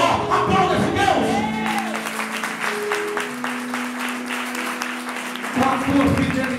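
A congregation at a church service applauds and cheers, with organ or keyboard chords sustained underneath and a few shouts rising over the clapping.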